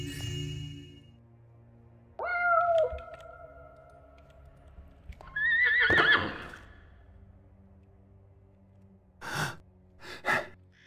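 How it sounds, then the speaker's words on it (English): A riding horse in the stealth video game Thief gives two loud, quavering whinnies separated by a pause, with breathy snorts and faint clicks between and short bursts of noise at the end; no talk. "my very first riding horse, a loyal companion on many a hunting trip"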